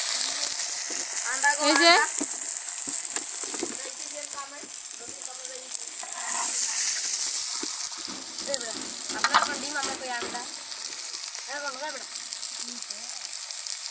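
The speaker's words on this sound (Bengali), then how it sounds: "এখন ডিম তেলে দিয়ে দেবে।" An egg frying in hot oil gives a steady sizzle and crackle throughout, while a person talks over it in short phrases.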